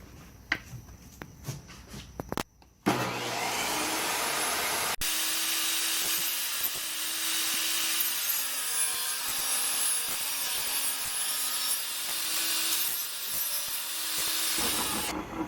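A power saw cuts a groove into a wooden T molding for a carpet transition. After a few clicks and a start-up whine, a loud, steady, hissing cut runs continuously at close range with slight humming changes in pitch.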